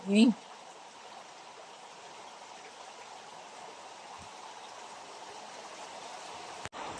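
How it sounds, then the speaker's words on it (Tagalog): River water flows steadily in a soft, continuous rush at Wadi Huqqain in Oman, with a brief faint voice at the start. "Dito ang ilog nila. Clear ang tubig."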